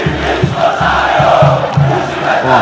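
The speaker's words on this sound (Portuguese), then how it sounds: "Ó, torcida do Vasco cantando" Vasco football supporters chant in a packed stadium during a match against Marcílio Dias, a dense crowd roar pulsing in rhythmic bursts, loud and continuous.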